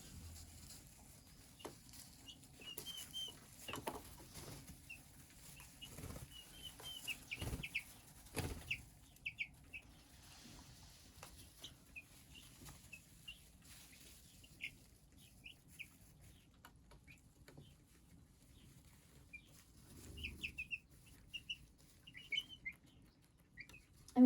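Young turkey poults and chicks peep softly in a brooder, with scattered high chirps, light scratching and wing flutters at close range and no talk.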